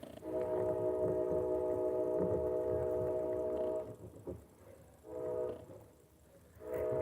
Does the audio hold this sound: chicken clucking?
no